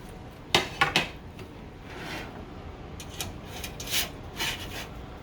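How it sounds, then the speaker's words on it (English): Spatula scraping a freshly baked pizza with melted cheese out of a pan: a few quick metallic scrapes and clinks, then softer rubbing scrapes, all fairly quiet and close with no talking. "We're going to try to spatula this thing out."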